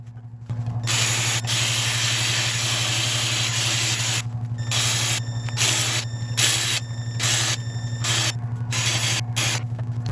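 Finish is sprayed onto a turned wooden lid in long hissing bursts. Brief pauses break the spray while a steady motor hum runs underneath throughout, fairly close and loud.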